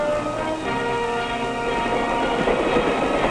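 A 1950s mainline passenger train running on rails, a loud continuous rumble with steady rolling clatter and faint rhythmic clicks, heard close and alone.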